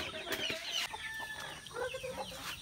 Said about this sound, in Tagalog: Ito yung mga sisiw ito.